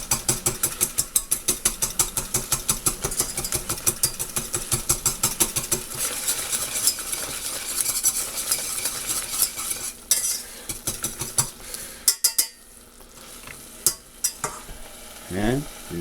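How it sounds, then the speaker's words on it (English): Fresh tomatoes crushed and stirred into a paste in a pan with olive oil, giving a quick, regular run of scraping, clacking strokes over a soft sizzle that later thin out into scattered scrapes. "you just crush it as much as you can"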